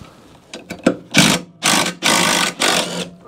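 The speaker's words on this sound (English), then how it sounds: "I'm gonna just try and impact that off." An impact wrench undoes a 14 mm bolt on a Hayter 56 Pro lawn mower, with a few short blips and then several loud, rattling hammering bursts in close succession, heard up close with no talking.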